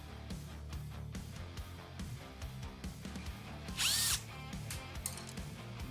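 An electric screwdriver whirs in short bursts removing tightly torqued screws during a PC build, with ratcheting clicks and a brief high-pitched whine as screws spin out.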